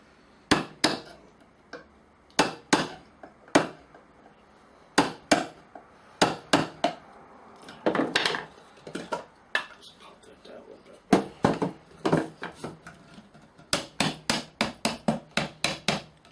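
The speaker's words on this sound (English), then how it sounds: "use my screwdriver for a nail driver" A screwdriver used as a hammer drives a nail with sharp, close metallic knocks, first spaced out, then in quicker rhythmic runs of strikes.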